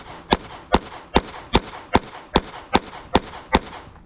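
Ten rounds from a Ruger LCP Lite compact pistol fired one-handed, each shot a sharp, loud crack at a quick, even pace, with brief quiet gaps between them.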